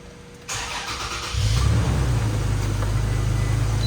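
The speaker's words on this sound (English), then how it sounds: "let's start the truck and see what's gonna do." A 2017 Toyota Tacoma with the 3.5L 2GR-FKS engine cranks and starts, quickly settling into a steady, loud idle that continues alone with no talk.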